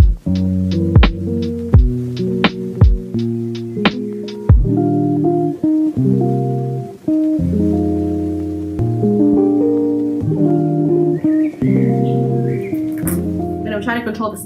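Sewing machine stitching a man's wallet, a fast close rhythmic mechanical hum with pulsing needle beats, starting with a few sharp clicks and then running steadily with brief pauses.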